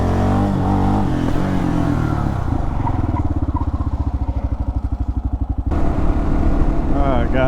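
A 2024 Kawasaki KLR650 motorcycle fitted with a JD tuner rumbles close by, its single-cylinder engine idling in a low, even pulse and then revving sharply near the end.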